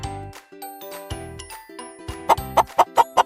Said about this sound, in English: What noise does a chicken make?